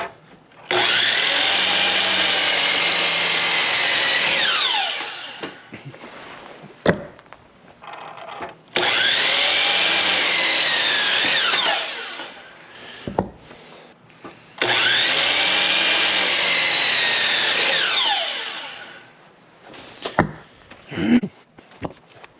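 Power saw cutting 8-foot wooden 2x4 boards, three long loud cuts with a steady whine, each followed by a brief pause and clatter as the boards are handled.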